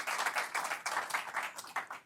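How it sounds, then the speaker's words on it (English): A short burst of audience applause at a hypnosis show, steady mid-volume clapping from a modest crowd that rises and falls in small waves. "Another round of applause"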